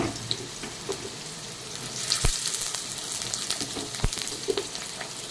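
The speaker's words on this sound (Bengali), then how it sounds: "এখন আমি আলুটাকে ভেজে নেব, শুধু তেলের পরে আমি লাল করে ভেজে নেব আলুটাকে" Peeled, cut potatoes fry in hot oil with a dense, continuous sizzle and crackle, broken by a couple of sharp knocks from the pan, close up and without speech.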